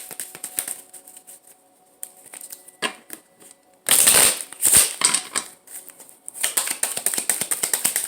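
Tarot cards are shuffled by hand in a reading, with soft riffling and tapping bursts and a louder, denser flurry midway, close and quiet, with no voice over them.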